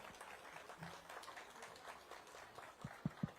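Audience at a literary event applauding as a guest arrives on stage, a faint, distant patter of clapping followed by a few louder close thumps near the end.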